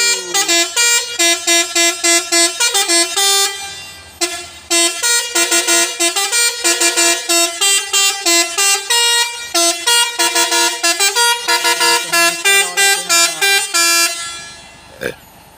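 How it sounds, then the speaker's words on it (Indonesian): A truck's telolet musical air horn plays a loud, rapid tune of pulsing multi-tone blasts, almost without a break, with a brief pause midway and a short final toot. "Main telolet ya bosku"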